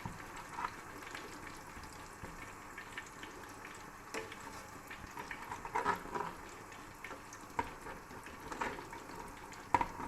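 Steady, gentle sizzling and bubbling of potato chips deep frying in hot oil, close and fairly quiet, with occasional small clinks.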